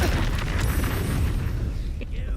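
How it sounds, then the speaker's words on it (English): A heavy, rumbling explosion blast in the video game Baldur's Gate 3 fills the clip, loud and booming, then tails off with a hiss of debris; a voice is faintly present. "I'm hearing his wild explosions in the background."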